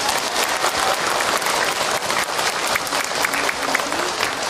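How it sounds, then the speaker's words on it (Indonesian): An audience claps warmly at a religious talk by Ustadz Hilman Fawzi, dense sustained applause filling the room for several seconds with a faint voice underneath. "Tepuk tangan buat Ahil Manda untuk jawabannya."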